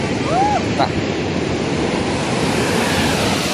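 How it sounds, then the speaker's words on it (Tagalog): Ocean surf at a surfing beach in La Union, Philippines: a continuous broad wash of breaking waves with wind rumble, loud and close, with no clear breaks. "ganda ng alon dito."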